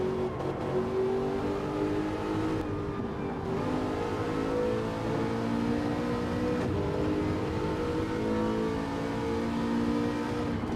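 An Aston Martin race car in a sim racing game revs continuously, its engine pitch climbing and dropping through gear changes and corners, loud and steady throughout.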